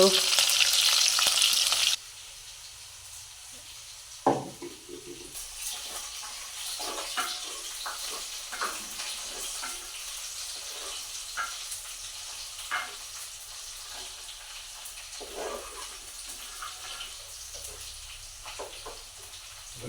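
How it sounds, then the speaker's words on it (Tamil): Green chillies sauté with onion in a pan: a brief loud hiss at the start gives way to quieter, steady sizzling, with scattered scraping stir sounds close by. "பச்சை மிளகாய் வதக்கி வெறுப்பு போடுறோம்"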